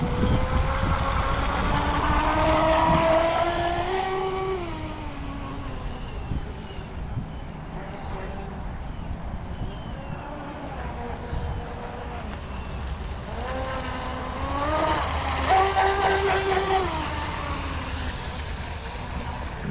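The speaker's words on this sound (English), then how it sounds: "It does move though for just being a 4S boat. To me, it is pretty quick." Pro Boat 4S RC boat, an 18-inch Recoil 2 or 26-inch BlackJack, running on open water with a steady high-pitched motor whine that rises and falls as it passes, louder near the start and again later.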